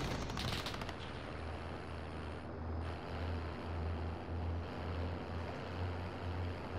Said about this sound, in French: je lui tire sur la camionnette et il réagit pas